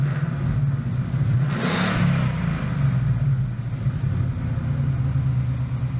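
A car fitted with an XForce S550 exhaust idles with a deep, steady rumble, then briefly revs up and falls back, the engine close and loud throughout.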